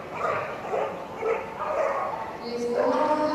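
A border collie barks and yips repeatedly in the large Crufts 2017 agility championship arena, with an energetic rhythm of bursts under a commentator's voice and crowd noise.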